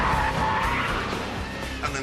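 A powerful convertible's tyres skid and squeal under hard braking on an airfield runway, a loud sustained screech over engine noise for the full two seconds, with a faint voice underneath.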